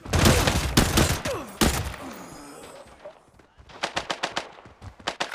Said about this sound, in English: that attracted a bunch of gunshots